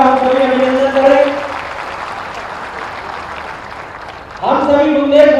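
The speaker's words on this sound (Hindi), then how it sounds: "एक बार तालियां बजाकर माननीय मुख्यमंत्री जी का हम सभी अभिनंदन करें" Audience applause for the chief minister at a development-works foundation ceremony in Sagar, Madhya Pradesh: a dense wash of clapping fills the middle, framed by someone speaking over a PA before and after.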